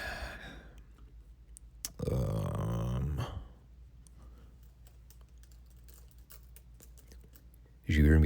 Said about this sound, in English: You hear me typing and clicking in the background.